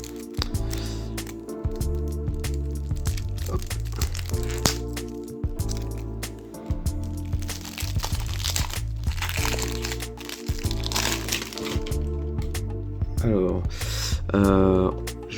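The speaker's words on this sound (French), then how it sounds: "on va commencer par s'ouvrir donc en premier les decks, les 2 decks de 54 cartes" Plastic wrapping crackles and crinkles as sealed Evangelion Chrono Clash System card game decks of 54 cards are opened by hand, with close, steady crumpling and snapping throughout and a short stretch of louder tearing near the end.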